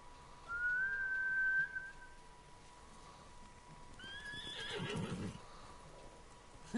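Horses whinny in Ghost of Tsushima, a long high neigh followed by a second shorter whinny with hoof clatter, set against quiet ambience.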